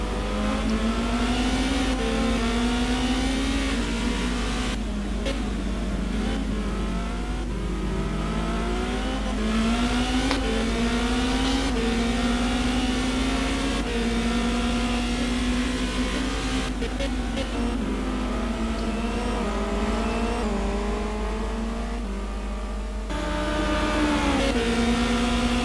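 Onboard engine of a race car lapping the Brazil circuit in a racing video game, a loud continuous drone whose pitch climbs through the gears, drops on upshifts and braking, then rises again, steady throughout with no voices.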